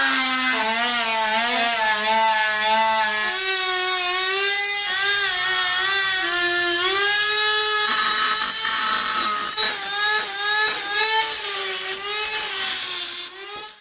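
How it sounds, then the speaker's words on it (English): Deburring wheel grinding the face of a Cobra putter, a loud sustained whine with shifting pitch, close and continuous with rough scraping near the end. "after I use the deburring wheel to smooth out the face"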